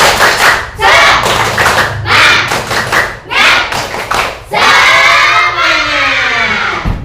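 A class of students in a Quran and Hadith lesson does a rhythmic spirit clap: several loud bursts of group clapping and thumps with children's shouts, ending in a sustained chorus of young voices.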